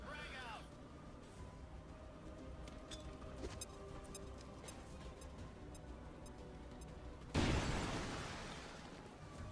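A frag grenade explodes in XCOM 2: War of the Chosen, one sudden loud blast late in the stretch that fades slowly, after quiet ticking game ambience and faint background sound.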